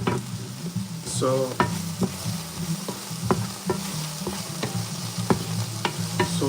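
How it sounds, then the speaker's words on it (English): Food sautés in a pan with a steady sizzle and repeated sharp scrapes and taps of a utensil being stirred, close and moderately loud, while one brief spoken word is heard. "saute this a little bit."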